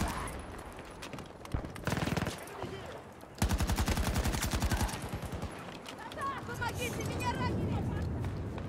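A .50 cal machine gun fires in Battlefield 2042 in rapid bursts, loud and close. The longest burst rolls for about a second and a half, and players talk over the gunfire and the game noise.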